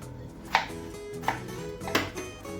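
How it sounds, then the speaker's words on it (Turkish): Three sharp knife chops land on a cutting board at uneven intervals, close and distinct over a faint background hum, with no talking, on a windy day. "Bu şekilde doğrayacağım."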